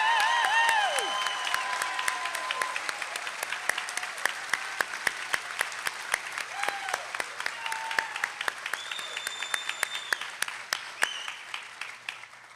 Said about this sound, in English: think we need to give one more very rousing round of applause for these new white coat